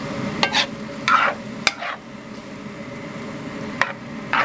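Rabbit meat and vegetables cook in a pan for sloppy joes, with a low background sizzle broken by several sharp utensil clinks and scraping stirs at irregular intervals, close by and without voices.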